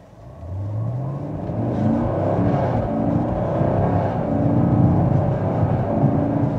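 A 2022 Chevy Camaro 1SS with a 10-speed automatic accelerates hard, its engine note rising through successive gear changes into a sustained loud roar, with no speech.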